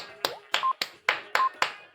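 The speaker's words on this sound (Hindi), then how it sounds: "हाँ तालियां बजा दो तुम" Hand clapping: six sharp, crisp claps in an even, fairly quick rhythm, close and distinct, with short electronic beeps sounding between some of them.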